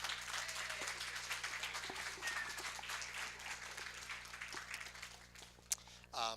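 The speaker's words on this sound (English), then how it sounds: "Let's give a big round of applause to Dean Romano." Applause from an audience at a community television celebration in Kenosha, steady dense clapping spread across the room at moderate level, with a brief sharp knock near the end.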